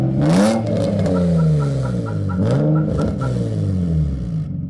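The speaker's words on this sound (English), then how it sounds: "This is an air leak, it sounds like a guys cams, which sounds pretty awesome." Car engine running with an air leak after a throttle body spacer install, giving a loud, lumpy idle that rises and falls in repeated revving swells with a choppy, cam-like rhythm.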